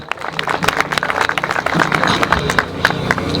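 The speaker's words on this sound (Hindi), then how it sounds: "इनको खुश आमदीद कहते हैं और बहुत सी तालियां होनी चाहिए" An audience claps to welcome guests at a tower groundbreaking ceremony: a lively burst of many hands clapping, with sharp individual claps standing out, mixed with crowd chatter and a nearby voice.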